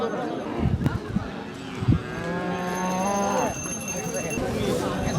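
A local-breed cow lets out a long, drawn-out moo close by, with people talking and general crowd noise of a busy cattle market selling small bulls for Qurbani around it.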